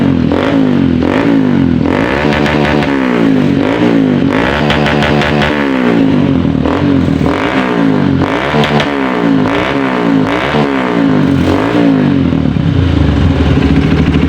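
A Honda CRF 150L motorcycle, previously hard to start, sputtering and low on power, is revved hard at full throttle in a series of loud, rising and falling surges, close by and steady throughout with no talking.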